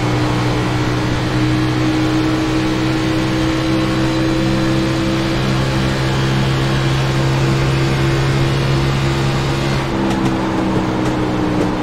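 A race car engine in the iRacing simulator drones at high speed heading into turn 1 at Texas Motor Speedway, a loud, steady sustained tone throughout with no talk.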